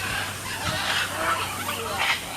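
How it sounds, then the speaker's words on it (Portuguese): A flock of macaws calls harshly, a few raspy squawks over a continuous rushing background, fairly distant and without anyone speaking. "Ali tem um bando de arara."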